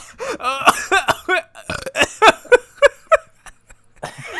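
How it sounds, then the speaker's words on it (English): A quick burp from a player during a Terraria gaming session, followed by a rapid string of short voiced bursts like laughter or chuckling, close and fairly loud with no clear talk. "I love the fucking, like, quick burp."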